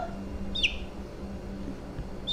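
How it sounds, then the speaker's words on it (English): Young incubator-hatched chicks give two short high chirps, a second apart, close by over a low steady background hum. "And these are the little chicks from Jeff at Bobblehead"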